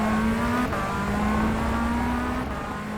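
Tatuus USF17 single-seater race car lapping Atlanta Motorsports Park in the rFactor 2 video game, a constant buzzing engine note holding high revs with a brief dip at a gear shift, close and steady.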